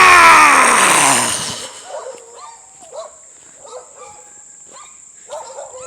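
Dogs barking repeatedly at a distance in the hills of Mexico after a loud shout at the start, with a high insect-like whine droning underneath.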